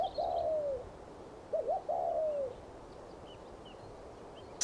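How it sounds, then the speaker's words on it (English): A spotted dove coos close and clear, giving a drawn-out call, then a short stuttered phrase flowing into a longer falling coo, over faint background hiss. "Spotted dove."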